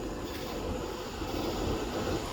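Exhaust fans of a GPU mining rig pushing out warm air, a steady close broadband whoosh and hum that holds level throughout with no voices.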